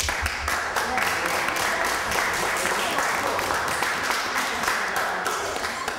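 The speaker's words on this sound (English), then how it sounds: "I think it's worth of applause" An audience at a speaking event in Washington, D.C. claps steadily and warmly, a dense, even patter of many hands that continues at a moderate level throughout.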